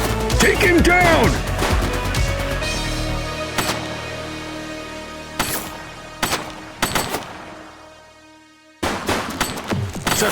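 Gunfire in The Precinct, a police video game, cracks out as several loud, separated shots over dense game sound and voices, with a thick burst at the start.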